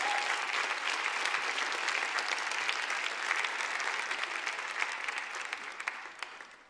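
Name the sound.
audience applause for volunteers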